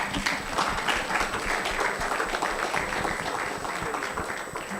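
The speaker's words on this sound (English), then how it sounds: "please clap for them" An audience claps for a panel at an International Day for Universal Access to Information event, sustained applause rolling evenly throughout, fairly loud and unbroken.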